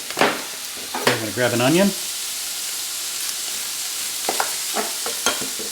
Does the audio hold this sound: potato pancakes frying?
yes